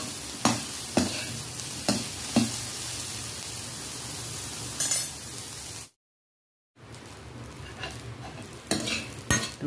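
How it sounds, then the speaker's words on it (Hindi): Soya chunks frying in a pan while being stirred, with a steady sizzle and several sharp scraping clinks of the spoon against the pan, broken by a brief silent gap before the sizzling resumes. "इसको तब तक फ्राई करना जब तक कि इसका कलर रेड नहीं हो जाता।"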